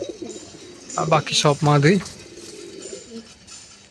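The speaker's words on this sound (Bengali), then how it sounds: "যে এগুলো হলো আমাদের কবুতর।" Pet pigeons in a loft coo softly in the background, low and continuous beneath a person speaking close to the microphone.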